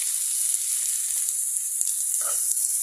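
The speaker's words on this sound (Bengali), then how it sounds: "এই যে এখানে পেঁয়াজগুলি কিছু ভেজে নিতে আসছি।" Onions frying in a pan, a loud continuous close-up sizzle with a steady bright hiss and a few faint clicks and bubbling pops, no talking.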